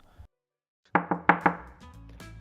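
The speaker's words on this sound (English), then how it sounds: "Oh, somebody's at the door." Four sharp knocks on a door in quick succession, close and fairly loud, after a brief low sound and silence, followed by a faint scuffle.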